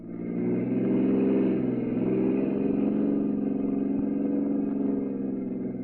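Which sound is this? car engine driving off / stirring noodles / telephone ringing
car engine driving off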